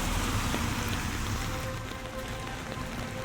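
Heavy cartoon rain pours steadily through a dense forest, a constant, close hiss of drops on leaves and ground with no voices over it.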